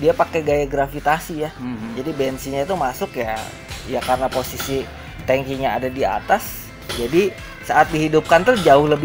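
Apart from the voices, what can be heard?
No distinct noise like a dog, phone or traffic.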